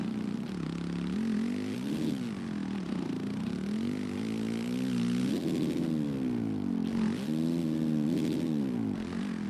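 A dirt bike engine in the video game MX vs ATV Legends revs and wails continuously during a race, its pitch climbing and dropping through gear shifts and turns, loud and steady with no talking.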